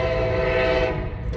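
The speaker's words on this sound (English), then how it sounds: "Sorry for that train going by." An Amtrak train passes close by, a steady loud rumble with layered tonal horn-like hum and rail noise, constant throughout the short stretch with no talking.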